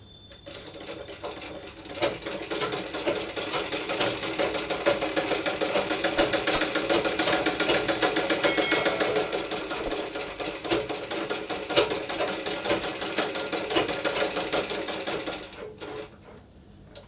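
A sewing machine stitches a baby's A-line frock in a long steady run, its rapid needle chatter rising after a slow start, holding for about fourteen seconds, then slowing and stopping near the end.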